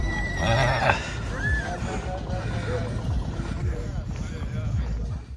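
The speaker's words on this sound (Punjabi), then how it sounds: "ਹੋਰ ਵੀ ਘੋੜੇ ਘੋੜੀਆਂ ਆ ਰਹੇ ਨੇ ਜੀ ਇੱਧਰ" Horses whinnying amid a busy outdoor crowd at a horse fair in Muktsar, Punjab, with people talking throughout and a steady hum of activity in the background.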